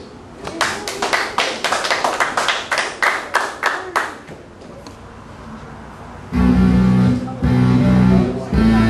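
A dozen or so sharp, separate claps ring out in an uneven rhythm at a live wrestling event, then give way to a loud swell of crowd noise and cheering.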